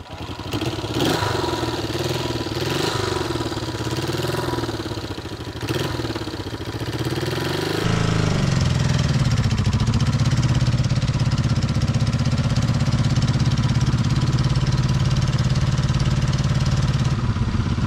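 A 1972 Honda CB350 motorcycle engine runs steadily nearby, first with an uneven, revving idle, then settling into a louder, constant drone with a rough mechanical clatter. No speech is heard.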